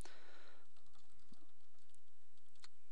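Keys clatter on a computer keyboard as a group name is entered, a quick run of soft, close taps followed by scattered individual keystrokes, with no talking.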